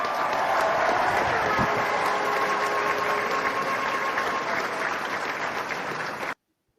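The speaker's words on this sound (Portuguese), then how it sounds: "Obrigado aí pelos aplausos." Steady, dense audience applause welcoming a guest on a literature and arts podcast, sustained at an even level for about six seconds before cutting off abruptly.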